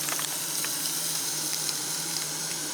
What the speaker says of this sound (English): Just making some dinner, frying up some sausages